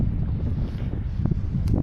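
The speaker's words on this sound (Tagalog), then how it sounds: "sobrang lakas ng hangin" Strong wind buffets the microphone on a white sand beach in Anda, Pangasinan, a steady low roaring rumble throughout with no voices.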